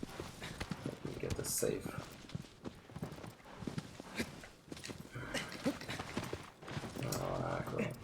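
Horse hooves clip-clop in steady rhythm in Shadow of the Colossus, close and moderately loud beneath continuous talking.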